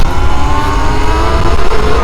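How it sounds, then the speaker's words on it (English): Loud engine and road roar from a car following close behind a Sur Ron X electric dirt bike, a steady, rumbling drone throughout the brief moment with no speech. "There was a car behind me"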